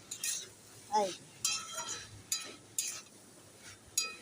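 A spoon stirring and scraping chickpeas coated in spices inside a cooking pot, with a handful of separate clinks and scrapes at a slow, uneven pace, near and fairly quiet, alongside a brief spoken word.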